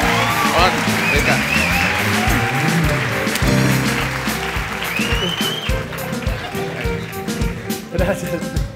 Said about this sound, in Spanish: ¡Fuerte el aplauso para ellas dos!